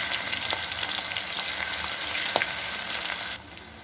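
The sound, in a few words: crushed garlic frying and being stirred in a pan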